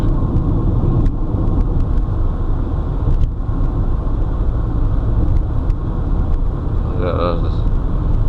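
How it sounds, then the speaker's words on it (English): Road traffic rumbles past close by, a steady low engine drone with a brief higher whine near the end, nearly continuous throughout. "Traffic."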